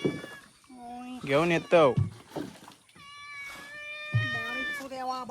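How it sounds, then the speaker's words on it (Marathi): Cats meow near a riverside fishing spot under the Devli bridge at Chipi, with several close, drawn-out meows in a row, heard under and between a man's speech. "आणि ही बघा मांजरा बिंजरा पण इली आहेत."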